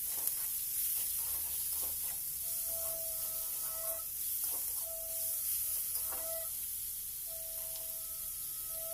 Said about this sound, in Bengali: কুচি করে রাখা পেঁয়াজটা নিয়ে নিচ্ছি ভাজার জন্য।